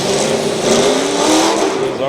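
Demolition derby cars roar at high revs at a county fair, a dense, loud, continuous engine drone with rising pitch sweeps, heard up close.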